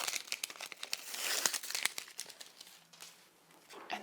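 Adhesive backing peeled away from a pre-cut fuse sheet, a run of close crinkling and crackling with sharp tearing ticks, uneven and continuous for a few seconds.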